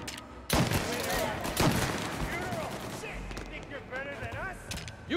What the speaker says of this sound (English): Shoot him before he comes up the stairs!